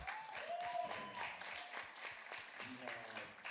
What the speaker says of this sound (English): this deserves an applause